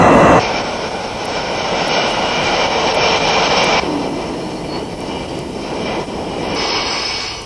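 A Grumman A-6 Intruder jet attack bomber roars loudly on a carrier deck, a steady broadband engine rush that holds strong and then eases slightly in level before swelling again, with no voices over it.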